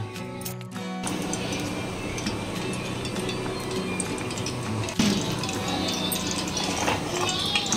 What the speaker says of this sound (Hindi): पैन में तेल डाली हूँ मैं